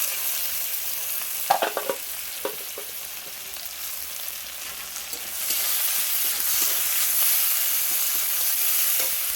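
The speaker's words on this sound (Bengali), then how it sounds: "পেঁয়াজ টমেটোটা ভাজা গেছে, দিয়ে দেবো আদা রসুনের পেস্ট।" Ginger garlic paste hits already fried onion and tomato in a pan, bringing a few clinks and stirring scrapes before a loud, steady sizzle takes over and continues close up.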